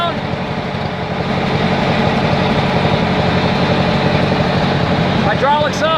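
A 1950 Ford 8N tractor engine idles loud and close with a steady low rumble while its hydraulic lift lowers, and a voice speaks briefly over it.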